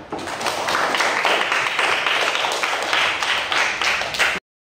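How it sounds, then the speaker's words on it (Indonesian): A classroom of students claps hands together in a sustained, dense burst of applause lasting about four seconds, close and fairly loud, then stopping abruptly. "Tepuk tangan."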